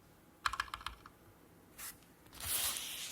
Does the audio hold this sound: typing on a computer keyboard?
yes